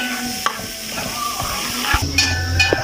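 Diced tomatoes tumble into eggplant frying in a pan for Egyptian moussaka, giving a close, steady sizzle with stirring scrapes and a few soft knocks and clatters, no talking.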